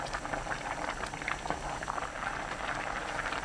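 Nurungji with kimchi broth boiling hard over high heat in a pot, a dense continuous bubbling and popping at close range, with no talk.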